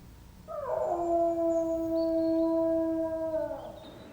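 A single long, mournful hound howl rises and holds over a faint background on the moor, close and clear, for about three seconds.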